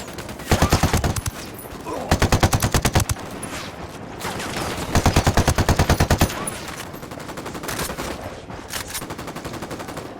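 Gunfire in the video game Ghost Recon Wildlands: loud, rapid automatic bursts in several separate volleys, some overlapping, with shorter scattered shots and background battle noise between them.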